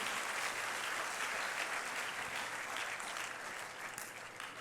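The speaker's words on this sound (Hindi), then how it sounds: "एक बार जोरदार तालियां कुमार देवेश जी के लिए।" An audience applauding together, a dense sustained clatter of clapping that fades slightly toward the end.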